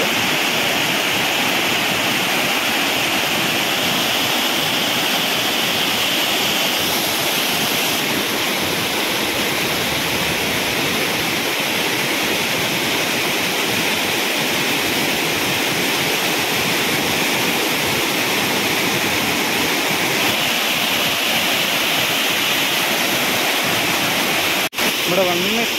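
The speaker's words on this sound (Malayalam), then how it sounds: "അരീക്കൽ വെള്ളച്ചാട്ടം പാമ്പാക്കുടയാണ് ഗ്രാമം" Areekal waterfall at Pampakuda, a village waterfall pouring over slippery rocks, fills the whole stretch with a loud, steady, broadband roar of rushing water that holds constant and unbroken throughout.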